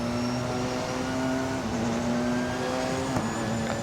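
A Porsche 919 race car roars at a steady high engine pitch in the video game Assetto Corsa, the engine note dipping briefly and recovering, loud and close throughout with no talk.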